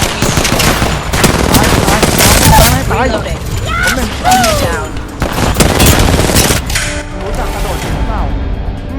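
Rapid bursts of automatic gunfire ring out in a team match of Apex Legends, loud and close, with dense rattling volleys and scattered shots throughout while excited voices talk over the action.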